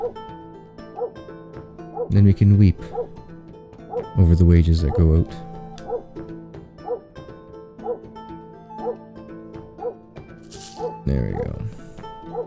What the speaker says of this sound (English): Good dog, now you're barking.